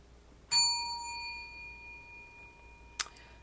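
A bright notification bell dings once, ringing out with a long clean decay, then a second short ding strikes near the end, with no voices over it.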